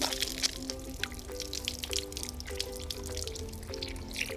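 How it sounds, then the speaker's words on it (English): Water poured from a bowl over hands during handwashing splashes and drips steadily and close by, with no one speaking. "You can also wash your hands under running water by using a bowl of water like I'm doing now"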